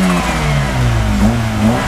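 A Honda Civic EG three-door with a small turbocharged engine of roughly 1,300 cc revs loudly and close by, its pitch rising and falling across a brief burst, no talking.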